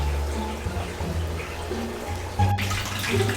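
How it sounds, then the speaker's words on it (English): Water draining steadily from a 100-gallon aquarium tank, a continuous close rushing and gurgling flow with no talking. "So the 100-gallon is still draining."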